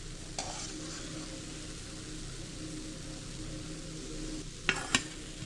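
Gulab jamun balls made from instant mix frying in hot oil, a steady close sizzle and bubble running throughout, with a couple of brief clinks near the end.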